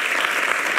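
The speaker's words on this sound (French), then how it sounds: "On peut l'applaudir" Steady applause from a French TV talk-show studio audience, dense, even clapping filling the whole short moment with no voices over it.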